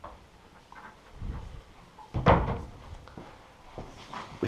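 Wardrobe drawers and doors in a Madrid apartment's built-in six-door wardrobe being opened and closed, a few soft wooden thunks and slides with one louder knock midway, faint and close in a quiet room.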